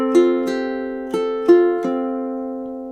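Ukulele playing the first measure of a song's intro, about five bright plucked chord strums in an even rhythm, each ringing out and decaying, close and clear with no voices.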